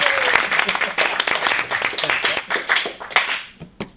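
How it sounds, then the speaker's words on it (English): A small group claps in sharp, distinct hand claps at a loose, fairly quick pace, close by and clear, tapering off near the end. "Slow clap."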